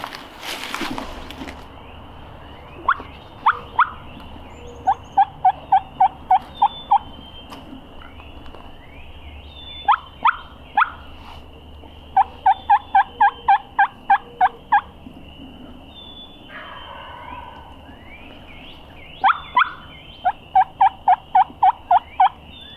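A wild turkey gobbler on public hunting land gives several odd, crane-like gobbles, each a rapid stuttering burst of notes repeated in clusters at moderate distance over quiet woodland background.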